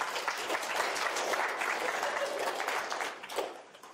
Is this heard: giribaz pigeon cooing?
no